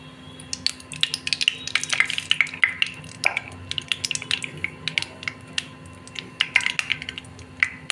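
Chopped onions hit hot oil in a pan for cabbage masala curry, crackling and popping in sharp irregular bursts over a low steady hiss, close and fairly loud with no talking.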